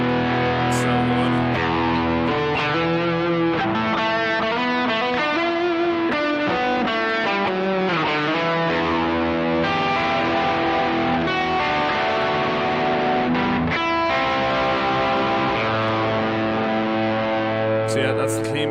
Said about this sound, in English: So yeah, that's the clean boost.